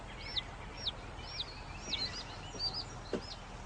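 A young chick peeps in a researcher's cellar, giving a series of short, high chirps at a steady rhythm of about two per second, close by and fairly clear over a quiet, noisy background.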